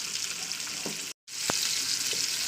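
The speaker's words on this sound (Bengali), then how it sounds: "তো দেখতেই পাচ্ছেন আমি মাছগুলোকে দিয়ে দিয়েছি তেলের মধ্যে।" Fish frying in hot oil in a home kitchen, a steady broadband sizzle running throughout, broken by a brief moment of silence midway, with a few faint clicks and knocks nearby.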